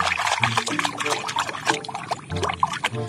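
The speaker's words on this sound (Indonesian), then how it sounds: "nah, kita cuci saja teman-teman" A dirty red toy being washed in water, with close splashing, trickling and pouring, busy and fairly loud, with a low hum coming and going.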